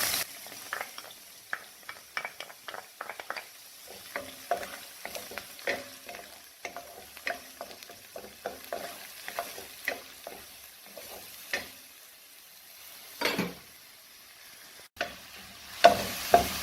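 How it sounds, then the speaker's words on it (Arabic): Chopped onion sizzling in a pan of olive oil with salt, a steady crackling fry with frequent sharp pops and stirring clatter, close and fairly loud throughout with no talk. "احنا دابا درنا هنا واحد شويه ديال زيت العود وشويه ديال الملحه، وغادي نديرو هنايا البصله."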